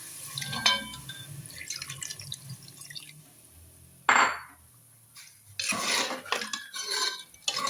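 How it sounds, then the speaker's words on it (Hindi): Water is poured into a pot of browned chicken to cook it down. A soft splash comes in short bursts, then a longer stream, with faint clinks of cookware in between and no talking. "अब इसमें चिकन को गलने के लिए पानी जाएगा।"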